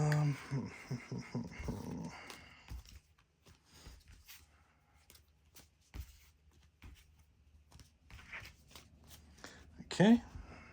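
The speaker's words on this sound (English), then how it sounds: "Shuffle." A deck of trading cards is shuffled in quick riffling bursts up close, with softer handling and card sounds between, while a dog growls and whimpers and a person talks nearby.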